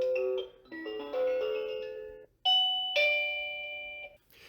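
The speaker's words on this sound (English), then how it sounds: "So you have different chime settings on the doorbell." AOSU wireless video doorbell chime sounding a different ringtone, a run of clear electronic bell notes followed by two louder sustained ding tones, close and alone.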